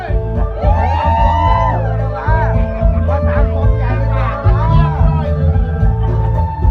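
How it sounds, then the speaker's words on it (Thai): Villagers cheering, whooping and shouting at a Thai temple robe-offering ceremony at an old wooden hall, a lively crowd roar with rising calls throughout, and a voice speaking over it. "เสียงชาวบ้านนะครับยังโห่ร้อง"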